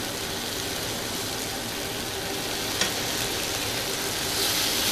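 Spices such as chilli powder, fennel and turmeric sizzle steadily in hot oil in a pan for a beans and shrimp fry, a continuous close frying hiss with a brief stir near the end.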